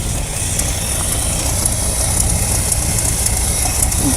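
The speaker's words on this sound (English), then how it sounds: "We're idling." A Dodge Power Wagon truck engine, revived after sixteen years, idles at a steady, even rumble, continuous and close, with no voices over it.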